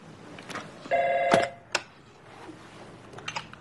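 A telephone rings once on speakerphone in a tense police standoff, a loud electronic bell burst lasting about half a second, followed by a sharp click and faint background noise.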